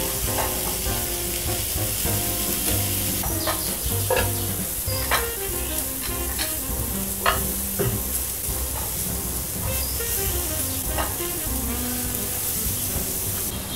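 Ripe Puangmanee durian flesh grilling in an oiled pan, a loud continuous sizzle and hiss with repeated scraping and tapping from a utensil against the pan, close up and without talking.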